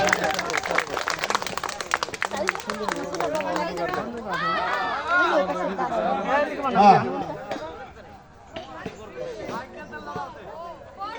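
Crowd clapping hands at a reunion gathering, a burst of rapid applause fading into loud chatter and babble, with voices talking throughout.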